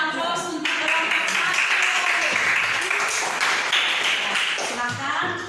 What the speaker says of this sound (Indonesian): Ya, kita berikan aplaus untuk kelompok